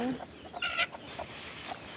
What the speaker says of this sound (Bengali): মুরগি ডিম পাড়তে ডিম পাড়তে বসছে